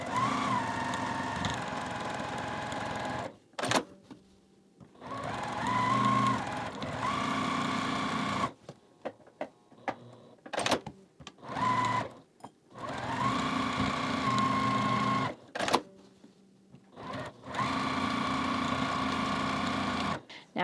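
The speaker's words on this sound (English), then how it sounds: "we're going to sew again 1/4 inch on both sides of this line" A sewing machine stitches a quarter-inch seam on an Ohio Star quilt block, running in steady multi-second bursts separated by short pauses and quiet handling noises.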